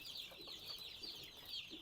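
Naked neck chickens clucking softly at a distance, a few faint, scattered clucks over a steady high chirping from young birds in a farm shed.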